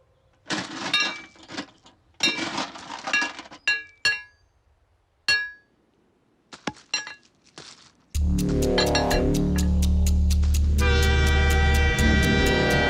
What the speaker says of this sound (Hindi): अरे एक लड़का लेटा हुआ है पटरी पर, ट्रेन आ रही है